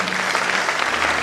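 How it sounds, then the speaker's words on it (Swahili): An audience applauds a band at an event raising awareness on alcohol and drug abuse, a dense steady clapping that fills the whole short moment with no voices above it. "Asanteni sana bendi, tuwapigeni makofi jameni."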